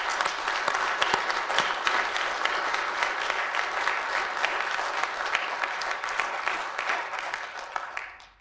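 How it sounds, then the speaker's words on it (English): Attendees at a town hall meeting on climate concerns clap together in a steady round of applause that holds for several seconds before tapering off at the end. "Let's give each other a round of applause and thank you."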